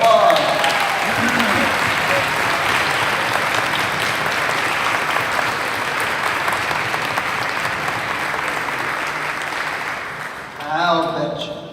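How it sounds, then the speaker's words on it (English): Long, steady applause from a ceremony audience honoring a planning committee, many hands clapping in a dense wash that fades out before a speaker resumes at the end. "Let's give them a round of applause."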